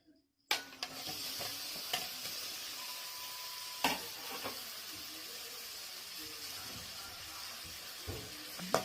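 Cleaned prawns hit a hot pan for a spicy prawn thokku, bursting into a sudden sizzle that settles into a steady frying hiss, with occasional stirring scrapes and knocks, close and fairly quiet.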